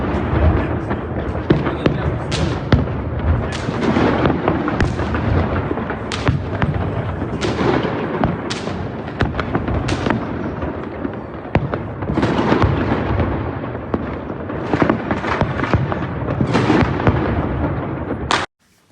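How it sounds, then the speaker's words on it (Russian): Continuous New Year's fireworks crackle and boom across a wide area over Batumi city, dense overlapping bursts with sharp pops, loud and sustained, with faint voices underneath. "посмотрите Новый год в Батуми, какие фейерверки бывают у нас тут в городе"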